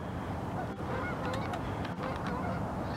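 Several geese honk repeatedly, fairly close, as they come down to land near goose decoys during a hunt in Michigan. Their loud, overlapping calls sound alone over a steady outdoor background.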